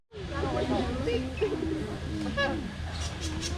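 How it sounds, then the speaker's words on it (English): A bird at a zoo gives a series of soft, dove-like cooing calls nearby, and people talk in the background. "Whoa, look at that bird, Caleb."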